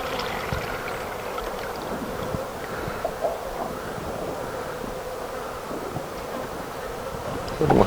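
A newly hived swarm of honeybees hums around the hive in a continuous buzzing drone, close and steady, with light handling knocks and rustles breaking through now and then.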